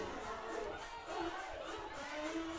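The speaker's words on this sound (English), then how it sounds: "The home crowd is jumping." Home crowd at a high school football game, Penn Wood against Bishop Shanahan, roaring in a steady, loud cheer that carries through the whole moment with shouting voices mixed in.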